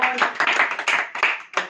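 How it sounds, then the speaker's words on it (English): Students clap for a classmate about to speak, a burst of sharp, close handclaps with several distinct peaks over under two seconds, loud and fairly dry. "for a big clap for Anas"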